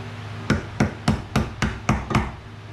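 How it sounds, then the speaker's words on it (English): Seven sharp framing hammer blows strike the hollow metal fuel pump housing of a 1994 Jeep Grand Cherokee at a steady rhythm, close and fairly loud, each with a short ringing decay. "Use my framing hammer"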